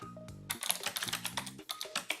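Quick keystrokes on a computer keyboard while typing a search, a close, crisp run of clicks after a brief tonal sound, with a short pause midway.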